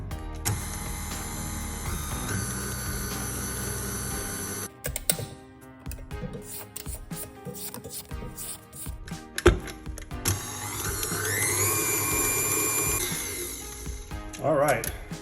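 An electric mixer on a low setting mixes flour and baking powder into batter for sticky date pudding, whirring steadily under a person talking, then clattering and stopping before it starts again with a rising whine.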